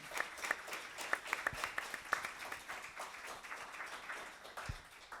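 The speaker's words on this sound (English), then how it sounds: "please, another applause to everyone who's been so helpful" An audience at a Zagreb Film Festival masterclass applauds, a dense patter of many hands clapping at moderate volume, with a few sharper claps standing out and no voices over it.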